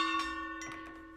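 A gong struck during a live stream rings out in two strikes, each leaving sustained, shimmering metallic tones that slowly fade with no talk over them.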